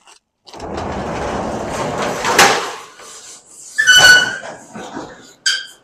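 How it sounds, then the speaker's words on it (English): A door at a small scrap metal business slides and scrapes shut with a squeaking rumble, ending in a sharper clunk and a brief final knock. "Let me shut the door."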